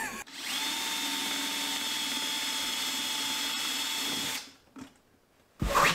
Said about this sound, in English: You have to literally drill through the back of it.